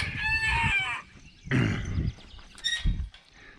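Chickens and a bantam rooster are heard close by, with a loud rooster crow followed by excited clucks and squawks from the flock, with no talking.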